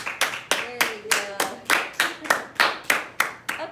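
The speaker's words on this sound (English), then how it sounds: "Clap, guys. Clap." Students in an algebra class clapping together in unison, about a dozen sharp, close claps in a steady rhythm of roughly three per second, each ringing briefly in the room.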